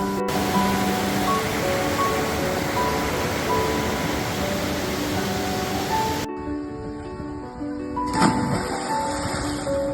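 A river in Lebanon flows into a lake with a steady, broad rushing wash that drops off abruptly toward the end, leaving a quieter hiss and a brief faint rustle.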